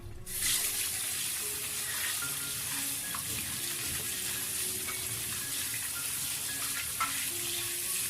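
Tap water runs steadily over pork liver being rinsed in a sink, a continuous close hiss with occasional splashes and handling clatter.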